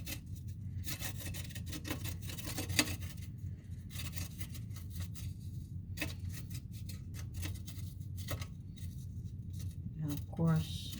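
An ingredient is grated into spaghetti sauce in a steady, rhythmic rasping scrape, close and fairly quiet, with a few sharper clicks and knocks.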